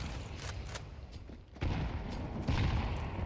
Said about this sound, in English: Oh, that's a beautiful nade.